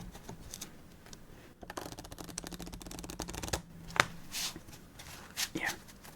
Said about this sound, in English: But it feels pretty good to shuffle.